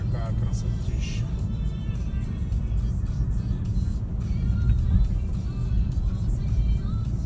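A car drives along a small mountain road through the hills toward a lake, its engine and tyre rumble steady and close throughout, swelling slightly midway.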